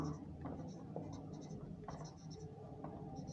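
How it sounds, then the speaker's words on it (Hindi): Chalk or marker scratching across a classroom board during a Class 9 geometry lesson, short strokes in irregular bursts, close and fairly quiet, with a low room hum beneath and no talk over the writing. "अब कन्वर्स लिख लेते हैं उसी का"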